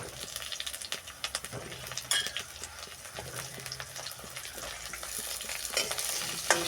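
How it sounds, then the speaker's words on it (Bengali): Potatoes fry and get stirred in a pan of browned onions, a steady close sizzle broken by frequent scraping strokes of a spatula against the pan. "আলুটা বেশ কিছুক্ষণ আমি পাঁচ মিনিট ভাজবো"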